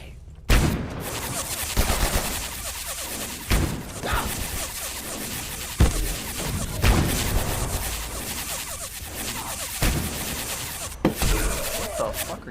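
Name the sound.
gunfire in video game Abiotic Factor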